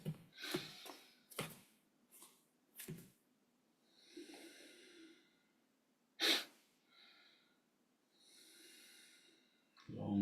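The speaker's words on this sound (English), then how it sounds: "Listen to the sound of the breath." Slow, deep yoga breathing while standing in Tadasana, with long deliberate inhalations and exhalations sounding as soft airy swells, several in a row at close range, broken by a few sharper snort-like bursts.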